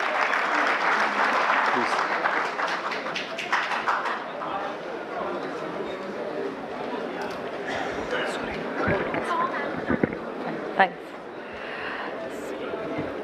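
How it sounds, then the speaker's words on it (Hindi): An audience applauds to welcome a speaker at an indoor Aadhaar update training session, dense clapping loud at first and gradually thinning out, with a few scattered claps and murmurs near the end. "एक बार तालियों के साथ उनका स्वागत करेंगे सभी लोग।"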